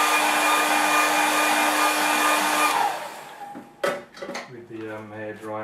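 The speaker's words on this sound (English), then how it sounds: "with the hair dryer" A hair dryer blows steadily and loudly over a watercolour landscape painting for about three seconds, then cuts off, followed by clattering and a voice speaking.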